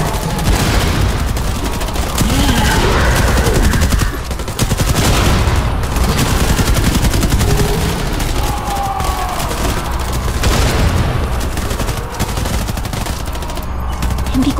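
Dense, loud gunfire, a sniper rifle alongside automatic weapons in an assault on a nest of aswang, roars continuously for the whole stretch with overlapping rapid bursts and booms and no pause.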